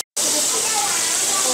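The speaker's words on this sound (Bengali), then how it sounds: "মাঝারিভাবে মাঝারি তেলে ভাজা হচ্ছে" Beef chaap dipped in gram flour and cornflour batter fries in a moderate amount of hot oil, a loud, steady hiss that starts abruptly after a brief silence and carries on unbroken.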